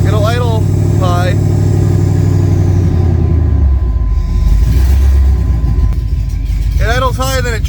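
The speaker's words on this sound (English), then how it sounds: "It idles high, then it drops down." A car engine idles loud and steady at a high rev, with the pitch sinking partway through as the idle drops down, heard close up under bursts of talking at the start and end.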